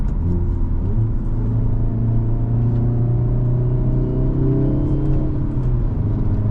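Engine of a brand-new 2025 Hyundai Elantra N under way, held at low revs: a steady, loud rumbling drone with a constant low hum throughout, no talking.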